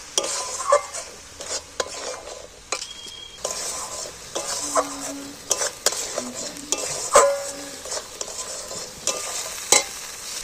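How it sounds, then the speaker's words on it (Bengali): Spice masala being sautéed and stirred in a wok for egg paneer: a steady sizzle under repeated sharp scrapes and clinks of a spatula against the metal pan, close and fairly loud, with no talking. "এইবার আমি আবারও ভালো করে কষিয়ে নেবো কড়াইগুলো দিয়ে"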